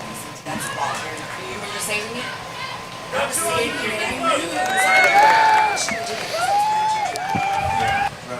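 A crowd cheers and shouts in the bottom of the sixth at a senior all-star baseball game, a sustained roar of voices with a nearby speaker talking over it.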